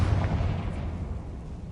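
A fiery Confringo blasting spell goes off in Hogwarts Legacy, a loud, low rumbling burst that rolls on steadily for under two seconds with no talk over it.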